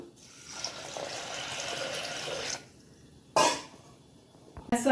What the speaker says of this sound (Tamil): இதுக்கு வேண்டிய அளவு தண்ணி கொஞ்சம்